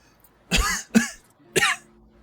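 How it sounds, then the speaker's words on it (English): Three loud, harsh coughs in close succession, the second short and abrupt, rising from quiet background with no talking. "You hear loud cough coming from the other side of the room."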